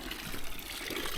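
Water trickling and splashing steadily from a public fountain in a French city built on a volcano, a soft continuous outdoor wash with no voices.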